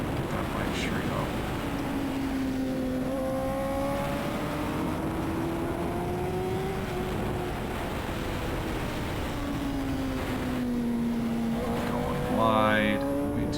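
SuperStock 1000 racing motorcycle engine on the NOLA Motorsports Park track, a steady loud drone with rising and falling pitch sweeps as the rider shifts, ending in a sharp rev climb near the end.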